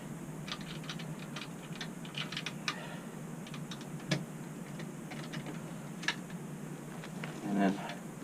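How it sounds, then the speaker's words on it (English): The locking latch on an aluminum-framed Zamp 200-watt portable solar case is undone, giving a few light mechanical clicks and ticks spread out against a quiet background, with one slightly fuller snap near the end. "So we undo the latch."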